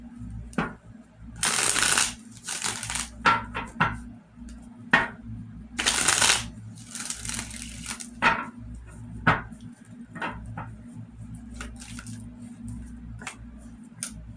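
Tarot cards shuffled by hand in bursts of riffling and flicking, with sharp taps and card snaps between them, close and fairly quiet over a low steady hum.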